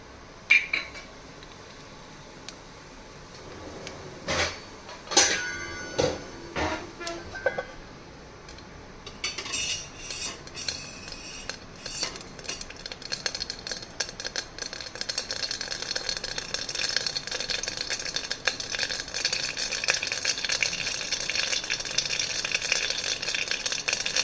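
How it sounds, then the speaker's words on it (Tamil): Mustard seeds and asafoetida frying in two ladles of oil for a Tamil okra sambar, with a few clinks of a metal utensil against the pan, then a steady, dense crackle and spatter of popping seeds that builds and continues throughout. "இப்போ 2 கரண்டி எண்ணெய் விட்டுருக்கேன். பெருங்காயம் போட்டுக்கலாம். இப்போ கடுகு,"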